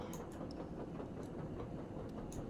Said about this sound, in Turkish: Şu an biz bir treniz bakın tak tak tak diye ses geliyor.